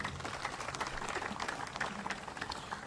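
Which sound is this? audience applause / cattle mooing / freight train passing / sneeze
audience applause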